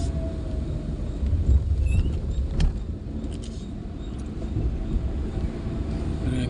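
A vehicle approaches on the steep Kallatty mountain road, a low engine rumble mixed with wind that swells and rises closer toward the end.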